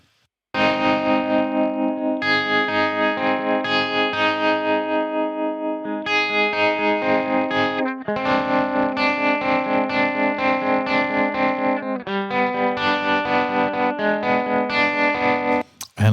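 Electric guitar through a Soundtoys tremolo pulsing in eighth notes, sustained distorted chords throbbing in a rapid, even rhythm, loud and close, with a brief change of chord partway through.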